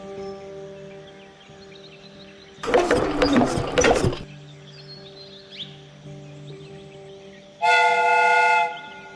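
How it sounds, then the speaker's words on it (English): In a Sherlock Holmes video game, the steam whistle on a replica train gives a single loud, steady blast of about a second near the end, following a burst of mechanical rattling and a low machinery hum. "The steam whistle is ready to be used."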